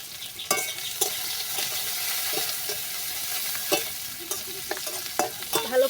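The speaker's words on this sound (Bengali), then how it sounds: "ভালো করে ভেজে নেব" Chopped onion, slit green chillies and crushed garlic fry in a pan, a soft steady sizzle broken by irregular spatula scrapes and taps, fairly quiet and with no talking.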